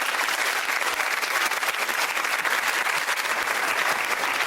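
Studio audience of a daytime talk show applauding steadily, a dense continuous wash of clapping that stays loud and even throughout with no voices over it.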